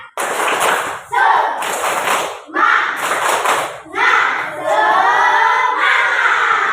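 A classroom of pupils performs a rhythmic clapping chant, loud bursts of synchronized claps alternating with shouted group chanting, repeated in several short phrases close by.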